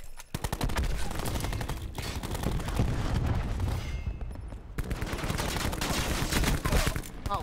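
Cluster grenade explosions in the Call of Duty Black Ops 4 beta on PS4: loud, dense rapid booms and crackling bursts, overlapping with gunfire in a continuous barrage for several seconds, briefly thinning near the middle.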